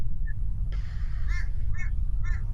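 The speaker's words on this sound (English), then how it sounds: "Yeah, it's a crow." A single crow caws from a jacaranda tree out front of a neighbour's house, giving three harsh, clear calls spaced about half a second apart over a low, steady background rumble.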